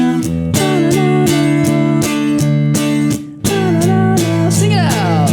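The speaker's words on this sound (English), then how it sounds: "you get another cool power chord on the top string" Electric guitar power chords on the top strings, strummed in a steady repeated rhythm of loud sustained hits, close and clear, with a brief pause midway and a short melodic run near the end.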